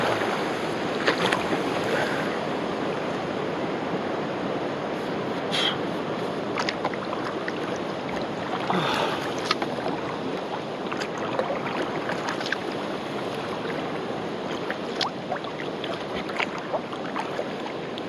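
Canoe paddle strokes dip and pull through creek water on a solo trip in Algonquin, steady rhythmic splashes and drips with light wind over the mic, nearby and continuous.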